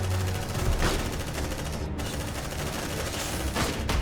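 Dense, continuous gunfire from a sci-fi shooter battle against xenomorphs, including shotgun blasts, booming loud and close with no pauses across the whole stretch.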